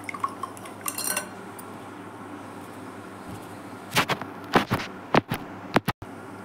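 Salt being stirred into a paste in a bowl with a spoon, a faint scraping start followed by several sharp clinking scrapes of metal against the bowl, close and intermittent.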